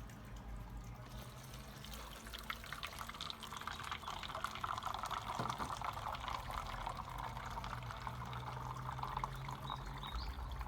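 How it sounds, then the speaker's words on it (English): Water, 300 millilitres, is poured into a bottle filled with gravel, making a steady, faint trickling and gurgling wash that continues throughout without pause. "I'm going to pour 300 millilitres of water"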